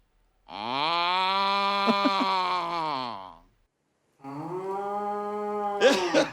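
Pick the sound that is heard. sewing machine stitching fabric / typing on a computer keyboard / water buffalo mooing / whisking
water buffalo mooing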